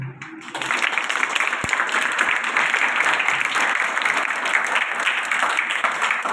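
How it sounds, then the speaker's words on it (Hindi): A school event audience breaks into loud applause for a guest, the secretary of Bharat Vikas Parishad; clapping swells in after a brief moment and stays thick and steady throughout, with no talking over it. "इनके लिए जोरदार तालियां बजाएं"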